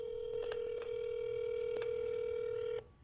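An old phone at a motel in Intercourse heard down a call line as a long, unbroken ringback tone with a few faint clicks, cut off near the end, no voices.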